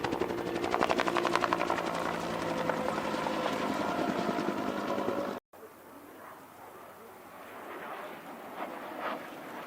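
A Bell UH-1 Huey helicopter at an airshow makes a steady rotor thump and turbine whine for about five seconds. After a brief cut a fainter, wind-buffeted engine drone follows at some distance.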